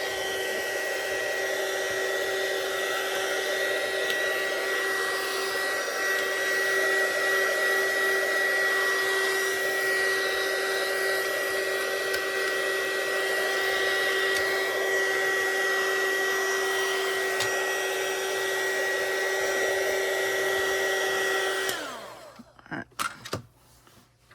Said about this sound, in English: I'm going to take my embossing gun here and I'm going to heat it up a little